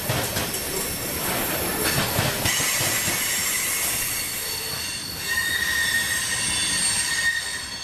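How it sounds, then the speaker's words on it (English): Southbound freight train B631 pounds across the diamond crossing in downtown Plant City, loud close rolling noise with sharp wheel squeal rising and fading and scattered clacking impacts, no talking. "it's still a train pounding the ever-familiar Diamond in downtown Plant City"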